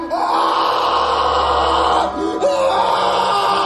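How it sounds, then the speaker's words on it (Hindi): A cartoon horror story character screams in distress: a loud, sustained, wailing cry that runs for about two seconds, breaks off briefly, then rises again and holds to the end. "तभी अचानक से किसी के चिल्लाने की आवाज आने लगती है"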